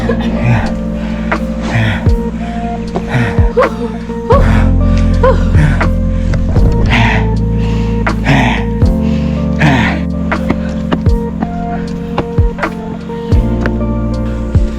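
Heavy, rhythmic panting and gasping from someone who has just climbed the long stairway at Sipiso Piso waterfall, close and loud over a constant droning background.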